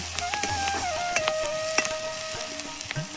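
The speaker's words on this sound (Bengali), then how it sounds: "এখন এই যে পেঁয়াজ মরিচ ভেজে নেওয়া হচ্ছে" Onions and chillies fry in oil in an outdoor farmhouse kitchen, with a steady close sizzle, occasional stirring scrapes and a faint engine drone in the background.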